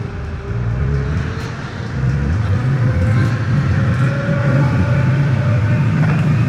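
Cars drive close behind on a steep 30% grade, their engines droning with a steady, loud road rumble that swells slightly as they climb, with no talk over it.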